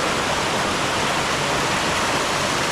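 A waterfall in India roars in a dense, unbroken rush of falling water, loud and close, with no voices over it.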